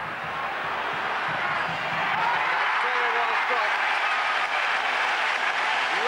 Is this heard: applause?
yes